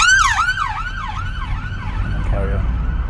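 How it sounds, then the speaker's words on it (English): A wailing ambulance siren sweeping rapidly up and down, loud at first then fading as it moves away down the road, over low road and engine rumble heard from a car. "I can see an ambulance car coming down the road"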